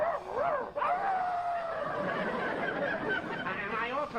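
A man imitates a sad little dog, giving a wavering, whining whimper with sliding pitch that carries on steadily for several seconds, close up and fairly loud, with no other voices over it.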